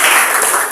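A classroom group claps after finishing a presentation on Hindu-Buddhist cultural acculturation, a brief dense burst of many hands close by with no talk over it.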